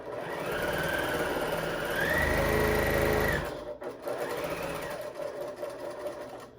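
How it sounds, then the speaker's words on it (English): A sewing machine runs steadily as it stitches a seam on a mobile device pillow, a close whirring hum with a pitch rise near the middle, then a short pause and a second quieter run. "I'm gonna sew this way on this line"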